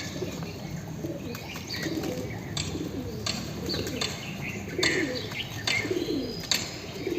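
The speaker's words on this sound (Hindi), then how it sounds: "देखिए छत पे एक लाल कबूतर का पट्ठा उतरा है" A red pigeon on a rooftop coos softly and repeatedly among other birds chirping, with a steady outdoor background and no voices.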